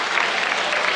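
Steady ovation from a wrestling crowd at a 1992 high school Super Regions meet as a wrestler clinches his 100th win: dense, continuous clapping filling the whole second at an even, loud level.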